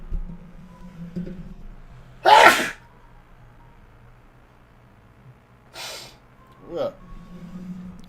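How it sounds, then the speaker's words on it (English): A single loud, sharp sneeze bursts out close to the microphone, followed a few seconds later by a softer breathy snort and a quick gasp, with a quiet voice talking in the background. "Oh, the loud sneeze."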